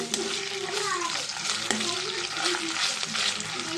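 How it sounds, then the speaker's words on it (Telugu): Ginger garlic paste fries with browned onions in a pan, giving a continuous close sizzle with intermittent stirring scrapes, while a voice talks softly underneath. "అల్లం వెల్లుల్లి పేస్ట్ కూడా కొంచెం పచ్చివాసన పోయేదాకా ఫ్రై చేసుకోవాలి ఫ్రెండ్స్"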